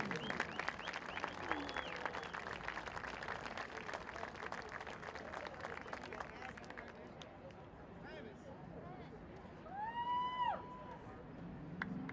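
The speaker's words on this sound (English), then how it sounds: "have another round of applause for our 2020 Hastings homecoming royalty" A crowd at a Hastings high school homecoming football game at McNamara Stadium claps for the homecoming royalty, sustained distant applause fading, with whistles and cheers near the end.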